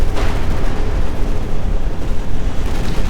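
An IS-2 tank fires its cannon in the video game Company of Heroes 2, heavy booming blasts and rumbling battle noise filling the mix loudly and continuously, with no voice over it.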